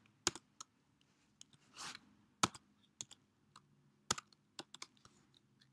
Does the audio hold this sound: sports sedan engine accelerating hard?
no